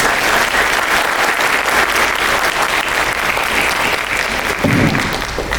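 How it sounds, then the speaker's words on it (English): Sustained applause from a crowd, steady and loud clapping throughout with no talking. "let's give Mr. Brooks a round of applause"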